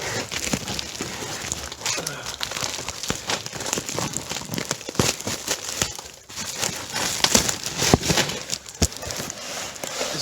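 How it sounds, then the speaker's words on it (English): Plastic packaging and tape crinkle and rustle steadily up close while a car headlight is unboxed, with sharper crackles scattered throughout. "So I'm just unboxing this headlight right now."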